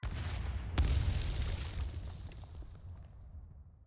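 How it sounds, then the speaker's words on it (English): A video game explosion erupts from a forest, a sudden deep boom followed by a long rumbling tail that fades away over a few seconds, with no voices. "An explosion from the forest."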